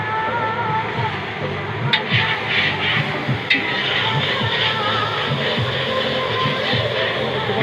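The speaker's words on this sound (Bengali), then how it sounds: "এই সাইডটা কিছুক্ষণ ফ্রাই করলাম।" Pangas fish frying in a salted pan, giving a steady, dense sizzle throughout with a few sharp clicks from stirring or turning.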